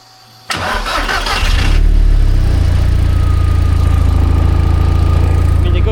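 A warm Toyota MR2 engine cranks briefly with a whirring starter, then catches and settles into a loud, steady close-up idle that runs on without pause.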